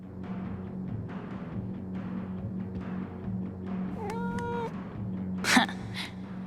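A cat named Valkyrie lets out a single drawn-out meow partway through, fairly faint over a soft background hum. Rustling comes before it, and a sharp brief noise burst follows.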